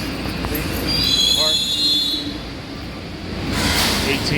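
A New York City subway train's wheels squeal in rising and falling high-pitched whines over a loud, rumbling rail din, heard close from inside the moving car.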